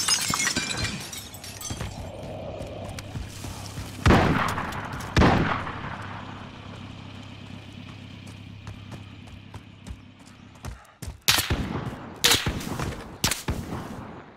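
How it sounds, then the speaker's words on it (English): Gunfire in the Call of Duty Warzone battle royale video game: a few sharp, loud shots and impacts stand out at scattered moments, with a burst of several rapid cracks near the end over a steady low game ambience. "I see some gun shooting over there"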